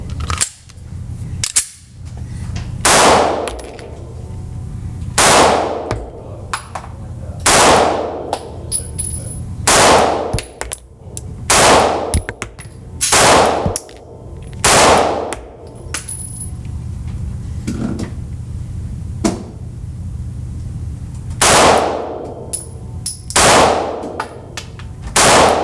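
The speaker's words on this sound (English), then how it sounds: "First time shooting the Springfield Hellcat Pro." Springfield Hellcat Pro pistol firing at a range, a string of roughly a dozen sharp, loud reports spaced a second or two apart, with a steady low hum and faint clicks between shots.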